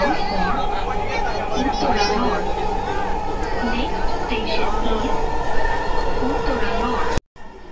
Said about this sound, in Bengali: এখানে ট্রেনটি থামবে, থামার পরে এখান থেকে কিছু যাত্রী নেবে